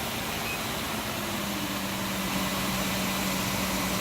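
Motors of an S12 mid-to-large indoor floor scrubber run steadily, a continuous broadband whir with a low hum underneath, even and unbroken throughout.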